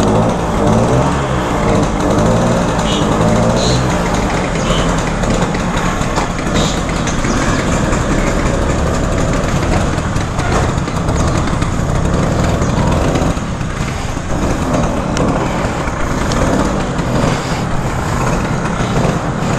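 A Vespa PX scooter engine runs continuously for about twenty seconds, a loud, close, steady two-stroke drone with a buzzing rough idle character, no talking over it.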